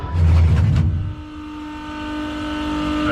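A powerful car engine revs hard in a loud deep burst, then drops to a steadier idle hum that slowly builds.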